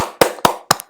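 Three sharp hand claps sound close and loud, evenly spaced, each one crisp and standing alone with no talk.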